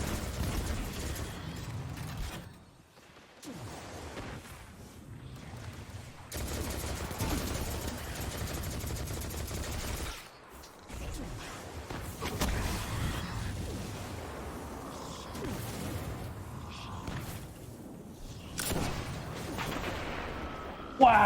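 Video game combat in a sci-fi shooter: grenade blasts and bursts of gunfire go off in uneven clusters over a low rumble, with whooshes between them and a voice speaking at times.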